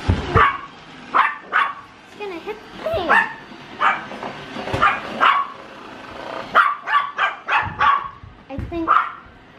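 A dog barks repeatedly in short, sharp bursts with some whining in between, close by, while a person talks over it.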